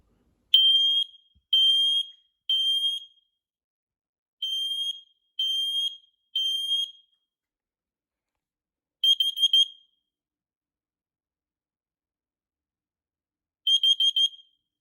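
A smoke and carbon monoxide combo detector's test alarm sounds in groups of three loud, piercing high-pitched beeps, followed after a pause by rapid chirping bursts, with nothing else heard.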